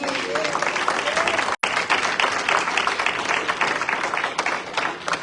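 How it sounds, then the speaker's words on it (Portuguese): A large church congregation applauds loudly and steadily, dense clapping filling the space with only a brief break. "aplauda o Senhor Jesus"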